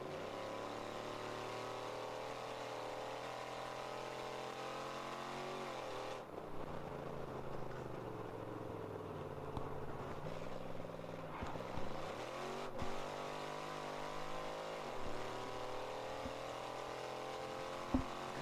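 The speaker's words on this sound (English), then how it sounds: "Car sounds like a hot rod." Race car engine at the Sebring 14-hour endurance race, a hot-rod-like rumble that runs steady and loud throughout, with brief dips and surges in pitch toward the middle.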